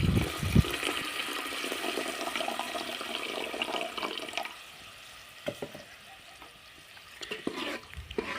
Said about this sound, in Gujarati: એમાં પાણી નાખી દેવું